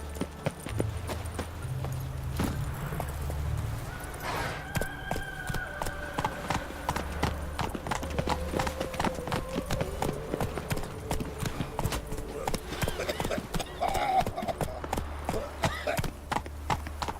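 Roach, a horse in the video game Witcher 3, gallops with clear, rapid hoof clip-clops against a music and ambient game backdrop, with a brief whinny or voice partway through.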